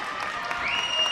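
Spectators cheer and clap at a girls high school basketball playoff game in Fairfield, a steady roar of applause and voices filling the gym, with a sustained whistle-like tone riding over it.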